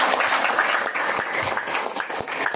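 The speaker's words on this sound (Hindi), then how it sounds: "आप सब से फिर से एक बार हाथ की ताली" Audience applause at a Hindi spiritual discourse gathering, a dense steady wash of hand clapping from a crowd, sustained and fairly close throughout with no talk over it.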